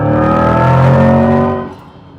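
A 2024 Corvette E-Ray 2LZ hybrid launches hard in a loud, close engine pull whose pitch rises steadily for about a second and a half, then the roar drops off sharply as the run ends.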